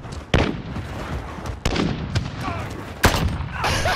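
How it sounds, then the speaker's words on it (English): Sniper rifle shots in Call of Duty: Modern Warfare, three sharp loud cracks spaced about a second and a half apart over a busy game background, with no talk between them. "Oh, I accidentally no-scoped him."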